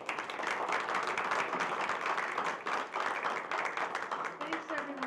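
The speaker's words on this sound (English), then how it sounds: "Let's have a round of applause." A seminar audience at a tiny houses event gives a steady, dense round of applause that fills the room, with some voices mixed in toward the end.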